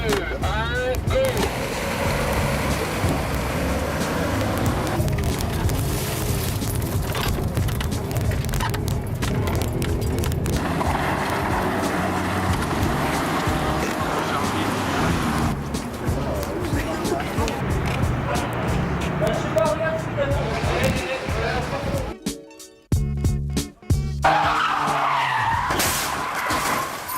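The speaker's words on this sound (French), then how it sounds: "Il sort de la préfecture et il s'enquille sur la place et il est poursuivi par des voitures de police" During a stunt rehearsal for a car chase, a taxi tears across a square pursued by police cars, with sustained engine roar, squealing tires and skids, and voices calling out through the loud, continuous action.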